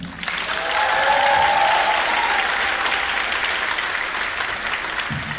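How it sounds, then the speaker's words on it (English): A big round of applause from a concert audience at a district choir event for an accompanist, dense and sustained, swelling early then holding steady before tapering near the end. "Give him a big round of applause"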